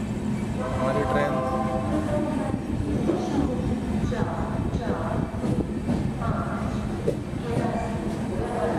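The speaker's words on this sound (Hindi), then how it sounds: "मुजफ्फरनगर को पार करती हुई ट्रेन" Passenger express train running on rails past Muzaffarnagar without stopping, a steady continuous rumble of wheels and carriages heard from on board throughout, with some faint voices or noise mixed in.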